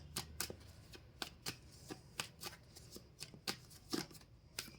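Tarot cards are shuffled and drawn by hand in quick, crisp riffling bursts, repeated every half second or so, close and fairly quiet with no talk.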